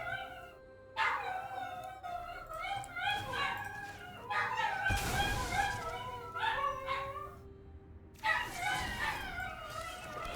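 Dogs close by bark, yip and whimper in excited, overlapping bursts with short pauses between, while someone talks over them.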